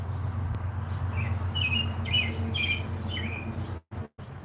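A bird chirps outside by a farm porch, a run of short, bright chirps over a steady low background hum, moderately close.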